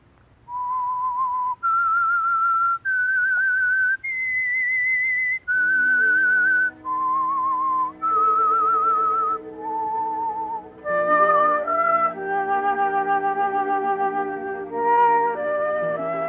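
Whistled theme of the radio show The Whistler, a lone clear melody of sustained notes stepping upward, then joined by a fuller orchestral accompaniment as the tune continues, loud and close.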